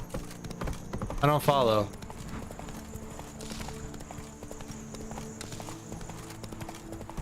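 Horse hooves clip-clop in a steady rhythm, moderately near, with a short burst of spoken voice early on and a low background hum.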